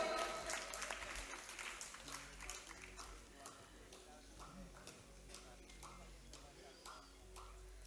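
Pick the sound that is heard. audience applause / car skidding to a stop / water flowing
audience applause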